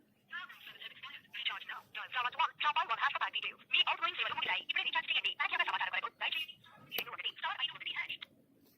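A tiny mobile phone placing a call, giving a band-limited automated voice message through its small speaker, close and continuous for several seconds with brief pauses.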